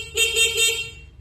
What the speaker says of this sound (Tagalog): Ito po yung kanyang stock horn.